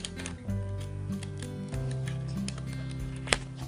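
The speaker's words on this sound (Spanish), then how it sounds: "con tus tijeritas de zigzag, lo que vas a hacer es empezar a recortar tus círculos" Zigzag craft scissors snipping around paper circles, a faint series of small ticking cuts under a quiet, sustained background tone.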